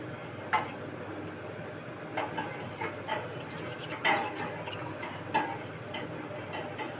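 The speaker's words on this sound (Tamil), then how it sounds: "நல்லா கலந்து விட்டுக்கலாம்" A spoon stirs milk into a sweet cooking in a pan, giving light scraping and occasional sharp clinks against the pan, irregularly spaced and close by, with no voices.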